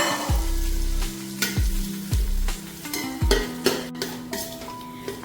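Gram flour roasting in oil is stirred in a pan, with regular scraping strokes and clinks of a spoon against metal over a soft, continuous sizzle, close and clear with no talking.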